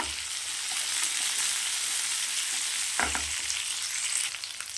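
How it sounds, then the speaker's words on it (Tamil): Curry leaves frying in hot oil in a pan for mutton varuval, a loud steady sizzle close by with a couple of dull knocks from stirring. "கொஞ்சமாக கருவேப்பிலை தழை போட்டுக்கலாம்."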